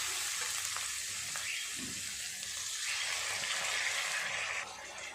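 Onions frying red in a pan with ginger-garlic paste: a steady, soft sizzle with faint stirring scrapes throughout, close but fairly quiet.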